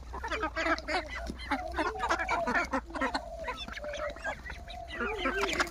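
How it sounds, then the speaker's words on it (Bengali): Small ducks in a village yard make repeated nasal quacks and chatter, several birds calling close by in overlapping bursts over a low rural hum. "আমি দেখেন এখানে কতগুলো হাঁস।"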